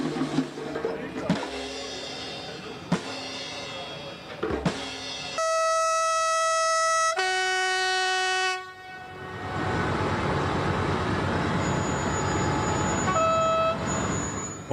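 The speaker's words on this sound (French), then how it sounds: "En gare de Saône, 10 voitures sont emmenées par une UM de 66 400, assistée par une troisième loco en pouce." Pair of SNCF BB 66400 diesel locomotives in multiple, helped by a third pushing engine, hauling ten coaches through a station: rumbling passes, loud two-tone horn blasts midway, then a steady rolling roar with a high squeal near the end.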